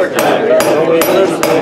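A slide hammer strikes repeatedly while pulling out a sleeve, four sharp metallic knocks spaced evenly in quick succession, loud and close, with a steady mechanical hum underneath.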